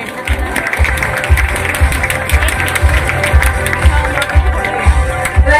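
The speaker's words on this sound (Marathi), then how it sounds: "सारख्या छान अशा मॉडेलसाठी एकदा जोरदार टाळ्या." An audience applauds a makeup model at a Lakme Academy show in a hotel, with steady clapping and a low rhythmic beat of music running underneath throughout.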